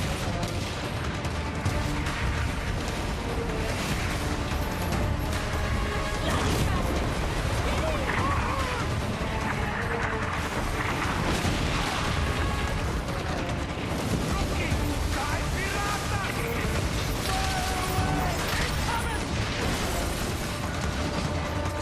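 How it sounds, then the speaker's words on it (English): Dense booming cannon fire and explosions in a video game roll continuously under a busy soundscape, with a voice talking throughout. "launches cannons on you"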